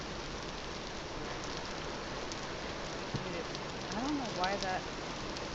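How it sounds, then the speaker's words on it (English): Steady rain hisses over a daytime scene in the video game Vintage Story, a broad even wash throughout, with a person speaking briefly near the end and a few faint tonal game sounds. "it's daytime, but it is raining"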